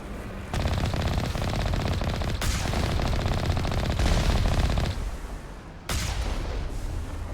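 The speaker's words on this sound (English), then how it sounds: "apparently the fire rate is slow enough that we can still dodge all their rockets even though we're this close to them" Sustained rapid enemy gunfire and rocket fire in the Mass Effect video game on Insanity difficulty, loud and dense, with a brief lull before the shooting resumes.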